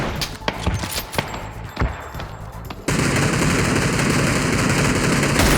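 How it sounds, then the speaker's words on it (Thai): Sharp gunshots in the battle royale game PUBG, loud close cracks scattered through the first half before a steady wash of noise takes over, with little talk. "ผมยิงหลังต้นไม้อยู่"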